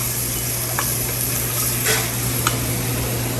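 Shrimp sizzling in a pan for tacos, a steady close hiss with a few light stirring scrapes and taps, no voices.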